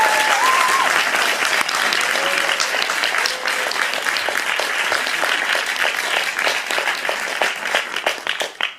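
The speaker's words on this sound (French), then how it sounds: "vous pouvez applaudir" An audience at the Cinémathèque applauds filmmaker Alexandre Athané before his animated short, a full, steady burst of clapping that gradually tapers off toward the end.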